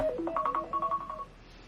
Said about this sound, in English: that's my alarm to go to bed